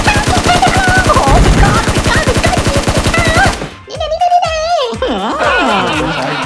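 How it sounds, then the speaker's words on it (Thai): Rapid automatic gunfire from the mobile battle royale game PUBG Mobile, a dense loud burst of repeated shots for about three and a half seconds, followed by someone talking excitedly with game sounds beneath. "โดนหนูดำยิงเป็นเลยค่ะ"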